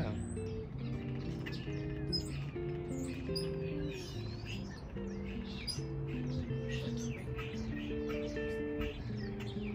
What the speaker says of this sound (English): there are these little birds sitting at the top of it, just like squawking away